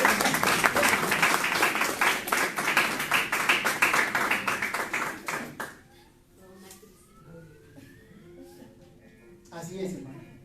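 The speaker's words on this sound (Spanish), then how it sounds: "Aplaudan al Señor." A church congregation claps and cheers loudly for about six seconds under a preacher's voice, then the applause drops away to quieter talk and room sound.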